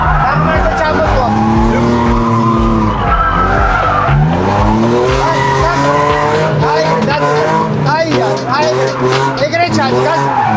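Car drifting during a drift lesson on a downhill stretch, with loud, continuous tire skidding and squealing alongside a revving engine throughout, while a man keeps giving instructions over the noise.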